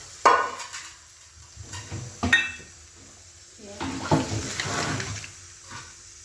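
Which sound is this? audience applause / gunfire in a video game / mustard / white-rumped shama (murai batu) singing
mustard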